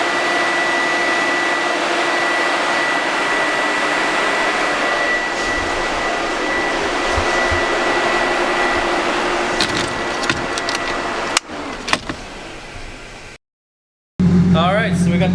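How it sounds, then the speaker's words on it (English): Electric radiator fans run on a 1JZ-engined Supra drift car, a loud steady whooshing drone with a faint whine, broken by a few clatters near the end, a brief dropout, and voices talking. "got the electric fans on"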